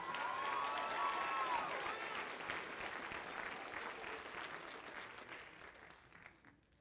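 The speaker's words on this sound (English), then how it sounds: "Let's give one more round of applause for our 8th grade." A school spring band concert audience claps for 8th grade band students at an awards segment, steady full applause with some cheering that slowly fades toward the end.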